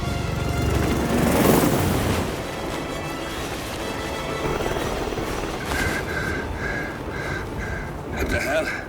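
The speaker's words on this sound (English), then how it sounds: "helicopter just took off" A helicopter taking off in the video game Hitman 3, a loud continuous rotor and engine rumble swelling early then holding steady, with game dialogue and beeping tones layered over it.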